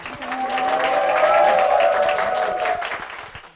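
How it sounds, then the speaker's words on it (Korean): A church audience applauds after a testimony. The clapping is steady and fairly loud, with a sustained tonal note running through the middle before the applause tapers off. "우리 김연아 권사님께 큰 박수 부탁드립니다."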